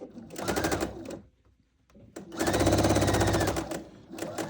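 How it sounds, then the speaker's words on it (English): A sewing machine stitching a 1/4 inch quilt seam, rapid close mechanical chatter in two long runs separated by a quiet pause, loud and alone. "I'm going to sew all the way"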